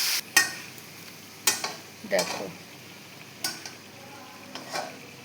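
Meat on the bone frying in a pan, with a low sizzle and several sharp clatters of stirring spread across the stretch, a voice briefly speaking over it.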